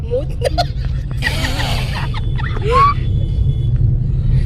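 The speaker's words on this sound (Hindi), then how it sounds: "ये पापा गाड़ी चला रहे हैं।" A car driven along a morning road in Lucknow, its steady low engine and road rumble running throughout, with bright chirps and voices over it.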